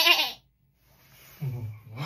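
A person imitates a little lamb's high, thin bleat with their voice, one short nasal cry at the start followed by a pause, then a second lower vocal bleat near the end, with a brief spoken aside in between.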